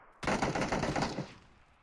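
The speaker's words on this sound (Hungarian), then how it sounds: "Falon keresztül lövöldözöl." Automatic gunfire in PUBG, a sudden rapid burst of close, loud shots that rattles for about a second, then trails off into a fading echo.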